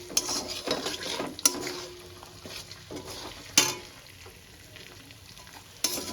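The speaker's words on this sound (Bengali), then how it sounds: "ফোড়নটা আমার ভাজা হয়ে গেছে" Whole spices for tempering sizzle softly in hot oil for a chicken curd curry, with occasional sharp clinks of a spoon stirring against the pan.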